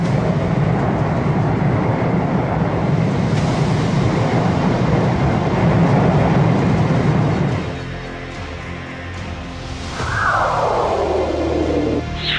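Freight train carrying a missile rolls past with a loud, steady rumble and rattle of wagons, then fades briefly before a rising whistle-like sweep.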